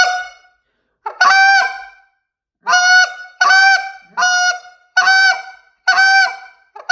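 A series of loud, sharp goose calls blown as spit notes, short honking notes repeated in quick bursts with brief pauses between them, close and clear.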